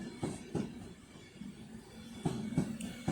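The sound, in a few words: Alstom Pendolino train approaching at Crewe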